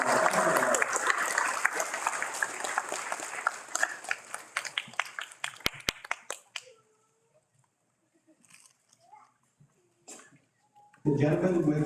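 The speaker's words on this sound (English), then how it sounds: "let's give you a round of applause" A round of applause at a 2023 commencement ceremony, full and busy at first, then breaking into scattered claps that die out, leaving near silence before a voice and sound return at the end.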